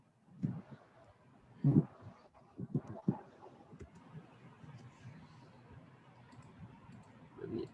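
A computer mouse clicks a handful of times in soft, irregular bursts, faint and close against a quiet room background.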